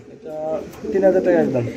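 A pigeon coos repeatedly at close range among other birds, the deep rolling calls running through most of the short stretch while someone talks over them.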